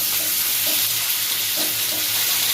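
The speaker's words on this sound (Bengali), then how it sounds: "আর যে কড়াইতে মাছ ভাজা হচ্ছে" Fish sizzles steadily in hot oil in a wok, a constant bright hiss close up, with a few soft stirring knocks and no voices.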